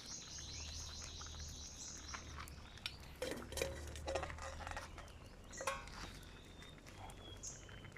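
Hands mix tilapia into cooked food, giving soft scraping and clinking of dish and utensil sounds at close range, while birds chirp in the background.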